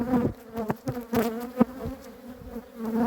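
Honeybees buzz close up at an opened hive during a colony inspection, a steady droning hum with wingbeat whines rising and falling as individual bees pass near.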